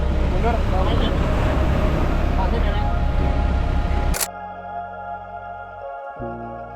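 A camera shutter on a polluted beach in Bali fires a single sharp click after several seconds of loud surf and outdoor noise, and a quieter hum follows.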